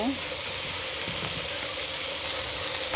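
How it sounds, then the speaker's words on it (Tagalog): String beans and okra sizzle steadily in a pan for Filipino adobong sitaw, with a brief stirring scrape partway through and a faint voice in the background. "halu-haluin lang natin para mas lumasa ang ating adobong sitaw na may okra"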